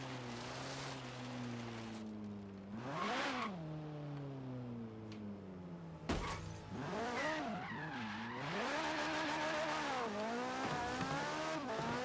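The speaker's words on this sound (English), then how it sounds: "for 900 horsepower in a little car like this thing's actually not really that fast" A 900-horsepower Lancia Stratos race car in a racing video game, its engine droning and rising in pitch through repeated revs and gear changes, with brief tire noise, loud and continuous throughout.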